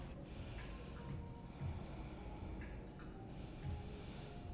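Slow, steady yoga breathing sounds close to the microphone, with long continuous airy inhales and exhales and faint snorting nasal texture, no talking.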